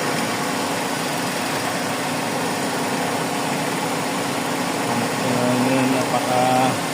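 A Suzuki Celerio engine with a misfire runs steadily and close by, a continuous rough idle with low droning hum throughout and a slight rise near the end.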